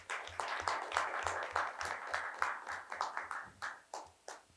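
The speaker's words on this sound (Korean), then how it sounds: "나오실 때 큰 박수 부탁드립니다." Audience at a university forum lecture applauds to welcome a guest author onto the stage, steady rhythmic clapping from a moderate crowd that thins and fades toward the end.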